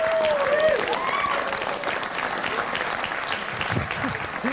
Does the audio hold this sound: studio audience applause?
yes